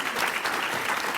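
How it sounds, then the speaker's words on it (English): An audience at an International Women's Day event claps steadily, a dense, even wash of applause from a crowd filling the room throughout. "I think that deserves a round of applause,"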